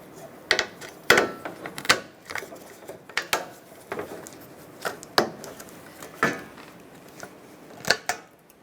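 Plastic push clips pressed through the condenser shield of a Ford E-350 during an AC condenser replacement, giving a series of sharp, close clicks and snaps at irregular intervals with no talk.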